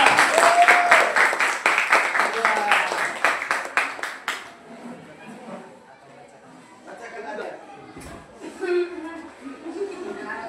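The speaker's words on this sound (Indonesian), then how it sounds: "Tepuk tangan dulu kelompok 2." Clapping from a group of classmates or teachers fills the first few seconds, dense and steady, then fades into murmuring voices and light talk.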